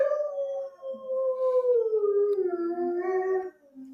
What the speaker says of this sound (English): They're howling.